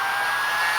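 Hair dryer blowing steadily on freshly painted parts of a 1/1400 scale AMT Enterprise C model kit, a close, continuous airy whoosh with no pauses.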